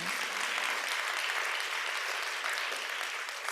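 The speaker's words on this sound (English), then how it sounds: "Give them a round of applause." An audience at a school superintendent's State of the Schools address breaks into sustained, even applause that fills the hall throughout.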